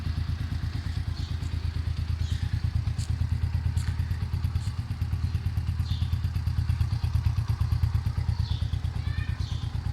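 A small 50cc motorcycle engine runs steadily nearby with a rapid, even putter and light clattering, holding a constant idle-like pitch throughout.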